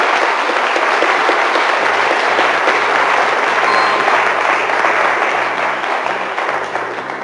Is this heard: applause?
yes